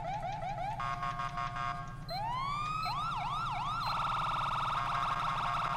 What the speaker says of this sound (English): This is a GTA siren.